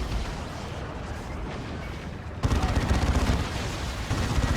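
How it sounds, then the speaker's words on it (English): A big gun in the real-time strategy game Dawn of War 2 fires during a 3v3 battle, a sudden heavy booming blast that swells halfway through over the ongoing din of combat and a commentator's voice. "There's that big boom shot. Boom. From that big zap gun."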